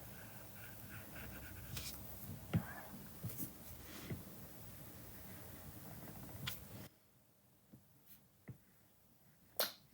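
Stylus scratching and tapping on a drawing tablet while sketching in Procreate, light soft strokes with occasional sharp taps, faint and close, ending in near silence with a few isolated clicks.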